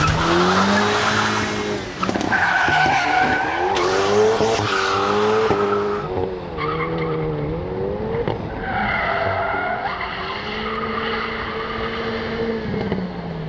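A front-wheel-drive car reverses fast, its engine roaring at high revs with harmonic whine, punctuated by sharp tire squeals and skidding, loud and close throughout.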